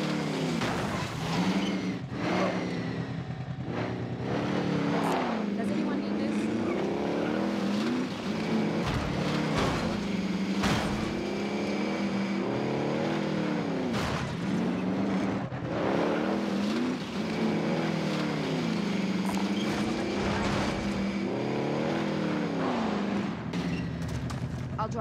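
Car driven in COD Warzone, its engine droning steadily and revving up and down throughout, loud and continuous with rising and falling gear-shift sweeps.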